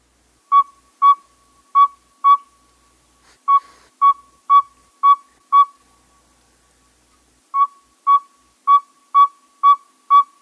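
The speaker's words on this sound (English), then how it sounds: "Let's listen to a northern saw-whet owl." A northern saw-whet owl gives a series of clear, evenly spaced single-pitched toots, repeated in runs of four to six with short pauses between, loud and close against silence.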